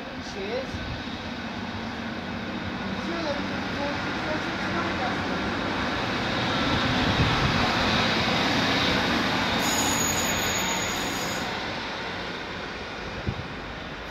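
A loud, sustained high-pitched squeal of a Class 153 train's wheels on rails at Lincoln Central over steady rumbling rail noise, with a brief brighter screech late in the clip.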